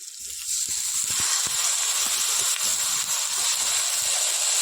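Cabbage hits a hot pan of spices and bursts into a loud hissing sizzle that swells quickly and holds steady, with knocks and scrapes of stirring underneath and no voices.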